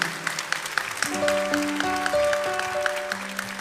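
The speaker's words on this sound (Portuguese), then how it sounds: "Pode aplaudir a palavra do Senhor." A church congregation applauds after a scripture reading, rhythmic clapping sustained throughout while sustained organ or keyboard notes sound underneath.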